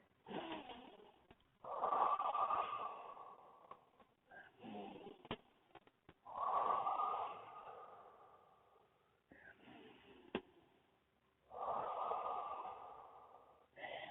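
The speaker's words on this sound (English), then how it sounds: "just take some deep breaths there" Slow, deep breaths in and out during a seated forward-reaching Pilates stretch, three long audible exhalations spaced a few seconds apart, close and fairly quiet with no talking.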